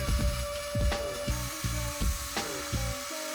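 A power sander works over a coated veneer desk, a steady whirring drone with a constant tone, swelling in repeated passes as it is pushed back and forth across the surface.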